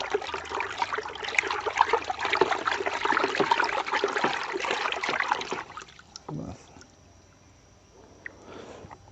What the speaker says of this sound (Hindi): इसको हम पुनकर मटके में डाल लेते हैं।